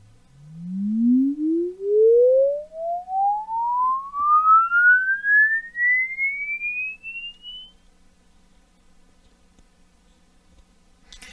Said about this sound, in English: I do apologize if the sweeps are loud, but it is what it is.